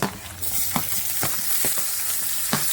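Onions, chopped carrot and tomato fry in a pan for noodles, giving a loud, continuous sizzle with a few soft knocks from stirring spaced through it.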